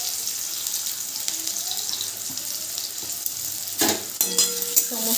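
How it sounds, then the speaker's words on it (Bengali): Green chillies and onion fry in hot oil for a pumpkin-greens dish, a steady hissing sizzle with stirring, then a louder burst of clatter and spatter near the end. "তেলের মধ্যে দিয়ে দিলাম দুটো কাঁচা লঙ্কা, সাথে পেঁয়াজ।"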